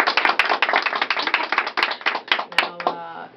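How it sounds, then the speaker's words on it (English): A studio audience claps for Elliott Yamin during a radio station visit, a dense burst of handclaps that thins into scattered claps near the end, with a brief voice underneath. "Round of applause."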